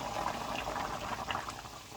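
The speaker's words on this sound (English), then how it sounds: "so we've got a nice little rolling boil going" Chicken adobo bubbles at a rolling boil in a pot, a soft, continuous burbling of liquid with small pops, fairly quiet and without speech.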